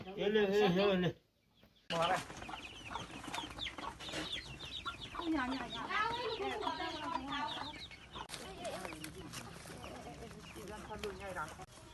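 Chickens cluck and chatter close by in overlapping bursts, with people talking over them and a brief quiet pause early on.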